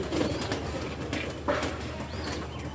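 An American Shallow pigeon, black and white, coos in soft repeated throaty rolls close by, with faint background noise and no talk.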